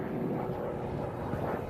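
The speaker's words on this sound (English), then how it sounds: "Rolling the airplane on the way up." An aerobatic airplane's engine drones steadily at an air show as the aircraft rolls through a climbing maneuver, a continuous, fairly distant roar with no voices.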